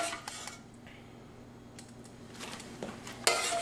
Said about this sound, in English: going to spoon some of that sauce and that guanciale over the top